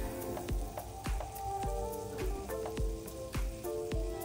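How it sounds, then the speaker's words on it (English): A cube of butter melting with a teaspoon of olive oil in a hot pan, sizzling and spitting steadily up close, with sharp pops and crackles scattered throughout. "heat a pan and into it goes around 1 teaspoon of olive oil and a small cube of butter. Let the butter melt."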